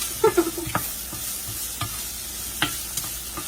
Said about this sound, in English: So we're just going to let these peppers cook just a little bit more